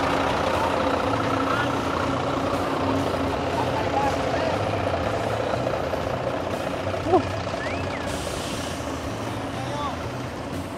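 A bus engine idles at Bacolod Port with a low, steady rumble under nearby port activity and general background bustle, and a brief bump stands out near the end.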